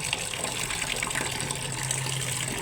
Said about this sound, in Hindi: मैं रोटी के लिए पानी निकालूंगी।